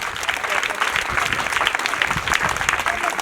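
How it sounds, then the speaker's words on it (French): Short burst of audience applause at an association gathering, a dense patter of clapping that stays steady and fairly close for a few seconds. "Applaudissez."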